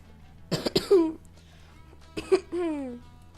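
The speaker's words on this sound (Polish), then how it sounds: "Sorka za mój kaszel." A person coughs in two separate bouts, each a couple of harsh throaty coughs followed by a drawn-out wheezy tail, close and clear.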